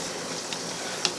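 Canned biscuit donuts fry in a pan of oil, a soft, steady sizzle with a couple of faint ticks, low and close, and no talking.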